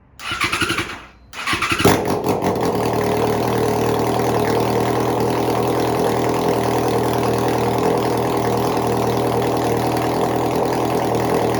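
A Yamaha XJ motorcycle with its exhaust removed cranks briefly, stumbles, then catches and settles into a loud, raw, steady idle, close and uninterrupted.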